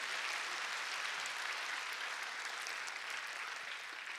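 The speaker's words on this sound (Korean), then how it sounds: "힘찬 격려의 박수를 한번 보내볼까요?" A church congregation applauding to encourage youth volunteer teachers, a steady, even wash of many hands clapping at moderate distance, sustained for about four seconds without talk.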